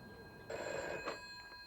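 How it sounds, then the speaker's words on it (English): A telephone bell rings indoors at breakfast time in a comedy scene: one clear, fairly loud ringing burst, followed by a couple of fainter, shorter trills. "phone rang one breakfast time"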